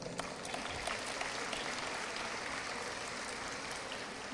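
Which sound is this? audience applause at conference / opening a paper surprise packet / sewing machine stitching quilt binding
audience applause at conference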